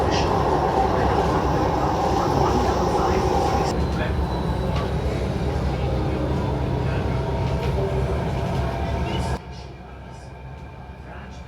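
Delhi Metro Green Line train running, a steady loud rumble and hum of the carriage in motion with a voice speaking over it, the noise dropping abruptly near the end.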